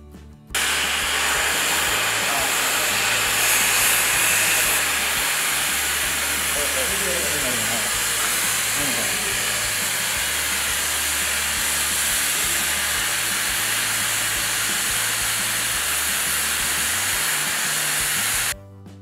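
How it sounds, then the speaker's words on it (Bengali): An oxy-fuel gas torch bevel-cutting 10 mm mild steel plate at a 30-degree angle, a loud, steady roaring hiss that holds for nearly twenty seconds with small crackles, starting and stopping abruptly. "30 ডিগ্রি অ্যাঙ্গেলে প্রত্যেকটা পাতকে বেভেল করে গ্যাস দিয়ে কাটতে হবে।"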